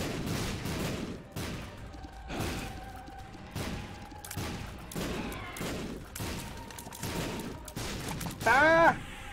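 Rapid bursts of explosions from The Binding of Isaac: Afterbirth+ sound as a run of sharp booms spread across the clip, with a short louder stretch near the end.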